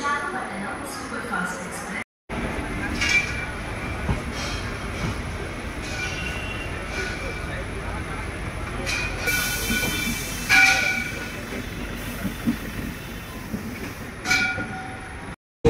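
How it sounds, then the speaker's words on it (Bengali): A passenger train pulls out of Shalimar station with a constant rolling rumble, hiss and high wheel squeal on the rails, and a voice speaks now and then over the running noise. "তো মাত্র 12 মিনিট দেরিতে আমাদের ট্রেন ছেড়ে দিল শালিমার থেকে।"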